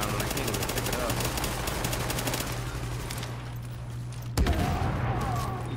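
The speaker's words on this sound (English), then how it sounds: "He just died from that explosion, didn't he?" Rapid gunfire rattles through a boss fight in The Division shooter game, then a single sharp blast bursts out near the end before the shooting noise carries on.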